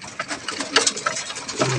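Racing pigeons in a loft make soft cooing and fluttering sounds up close, with scattered clicks and rustles over a brief stretch.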